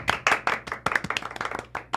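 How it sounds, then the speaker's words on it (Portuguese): A handful of people clap in a quick, uneven rhythm on a Brazilian football talk show, sharp close hand claps with a few spaced out near the end. "Palmas pro Johnny, palmas pro Johnny"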